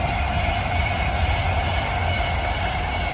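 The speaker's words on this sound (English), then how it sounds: "You can hear the trains going by there" A train rumbles past nearby, a steady loud roar of wheels and engine that holds constant throughout.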